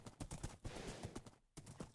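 Horse hooves clip-clopping in Minecraft, a quick close run of hollow blocky steps with a brief pause before a few more.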